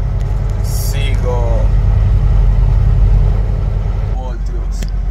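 A Peterbilt 387 truck with a damaged alternator driving on the APU, its engine a loud, steady low rumble throughout, with a brief squeaky or chirping sound near the start and end and no speech.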